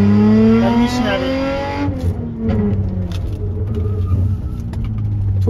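A car engine revs hard and then drops back to a rumbling idle, with a brief tire squeal and a voice talking over it.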